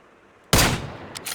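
A single sharp, loud sniper rifle gunshot in PUBG on PC cracks out of near silence and rings into a fading tail, with faint later echoes.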